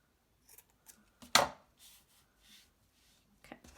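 Scissors trimming craft flower material, with a few soft, scattered snips and one sharp, louder cut near the middle, in an otherwise quiet room.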